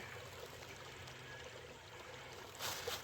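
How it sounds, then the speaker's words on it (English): Creek water trickles softly and steadily in a moist woodland spot, a faint continuous wash with a slightly brighter splash near the end. "See, we're right by the creek."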